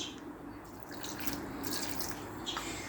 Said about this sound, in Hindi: तो अभी हम थोड़ा सा इसमें पानी डालेंगे,